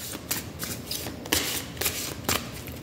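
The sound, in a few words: handling a deck of song cards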